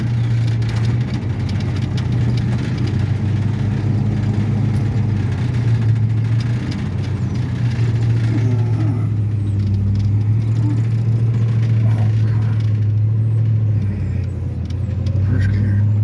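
Low steady rumble of a 1969 Ford Mustang Mach 1 engine pulling in first gear, heard from inside the car, holding a fairly even drone with slight rises and no talking.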